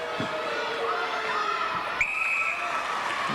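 A netball crowd at the Thunderbirds v Swifts 2001 major semi final reacts unhappily to a contact call with a steady, dense murmur and scattered shouts and whistles, heard at a distance.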